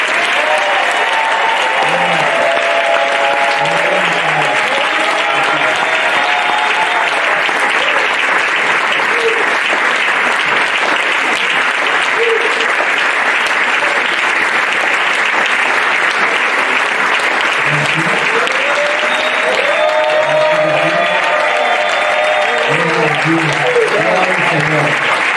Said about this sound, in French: Quand je vais dire son nom, avec les acclamations, bien nourri, Docteur Yakuba Sanon.